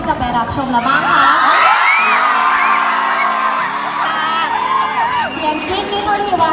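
A crowd of fans screams and whoops loudly before a performance at a Thailand for Attapeu event, with shrill overlapping cries rising and falling continuously, close and energetic.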